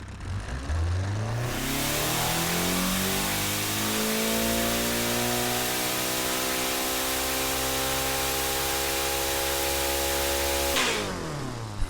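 A 2.0L engine in the Automation game revs on a dyno, climbing steadily in pitch from idle to a sustained high-rpm scream that holds loud and alone before cutting off near the end.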